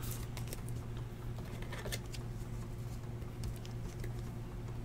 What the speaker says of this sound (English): It's been raining all week